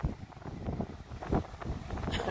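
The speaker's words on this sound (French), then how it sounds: "il y a du vent de ouf" Strong wind at the seaside on a coastal walk at Pen Bron, a loud gusting rush buffeting the microphone throughout, with a person talking over it.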